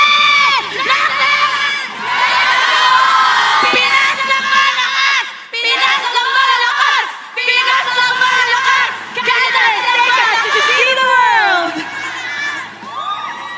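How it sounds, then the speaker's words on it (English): At an esports grand final in an arena, a large crowd cheers and shouts for UA in loud, sustained surges with brief dips, the rowdy roar of many voices filling the space. "Let's get them to cheer for UA."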